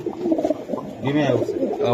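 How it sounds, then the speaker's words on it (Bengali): Racer pigeons coo softly close by, a few throaty calls mixed with a voice speaking. "সারন আপনি সাইরা দেন কবুতরটা"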